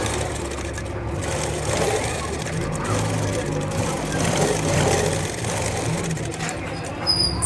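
A sewing machine top-stitches a plain blouse seam, running in a steady, continuous whirring hum at close range, with a voice present at times over the motor.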